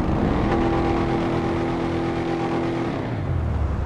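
The Arena Slamvan, a video-game vehicle with a rough-running engine, big dual rear tires and small front wheels, accelerates with a loud, steady, droning engine roar that holds for several seconds before easing slightly at the end.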